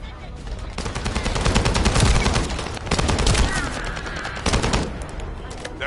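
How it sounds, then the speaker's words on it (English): Dense automatic gunfire in a looter shooter video game, with sustained bursts and volleys filling the scene, loud and continuous with faint speech mixed beneath. "That stopped the gunfire."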